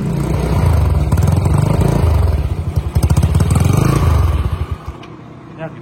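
A Yamaha Mio scooter with an aftermarket Nonem exhaust starts and idles. The engine throbs loudly and close up, with a rough, pulsing beat and slight revving that drops off near the end. No speech is heard.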